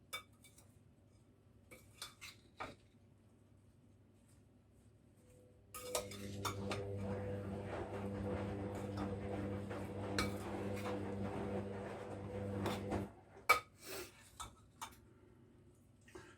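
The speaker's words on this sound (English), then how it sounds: "give it a good mix, make sure all the dry ingredients almost coat the fruit" Dried fruit is stirred with flour and other dry ingredients in a bowl for a Christmas pudding: a few faint spoon clinks, then about seven seconds of steady scraping and rattling, ending in scattered taps.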